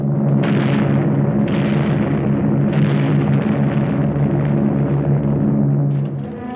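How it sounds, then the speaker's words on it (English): Bombing and strafing from an Allied air raid by British and American aircraft of the Eastern Air Command, a rough, continuous roar of explosions and rumble with heavy low-end, loud throughout and fading out at the end. "The Allied Air Force of British and Americans in the newly formed Eastern Air Command bombed and strafed Jap strongholds"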